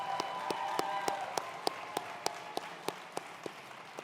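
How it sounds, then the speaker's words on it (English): Audience applause at a student-athlete banquet: a steady wash of clapping from a crowd in a hall, with a few sharp, louder claps punctuating it at a regular pace, moderately loud and without clear speech. "Everyone, a big applause to Dr."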